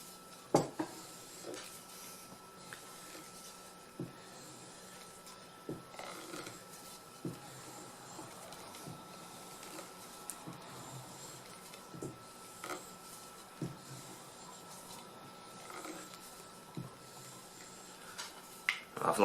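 The edge of a small forest axe being sharpened, faint rasping strokes with occasional light metallic clicks and taps against a quiet background.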